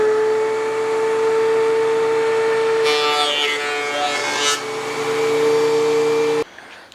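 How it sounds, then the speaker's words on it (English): A wood planer runs with a steady, loud motor hum, and a board feeding through it thins with a harsh cutting roar for about two seconds midway before the machine winds back to its idle drone. "Think we can run that through the planer?"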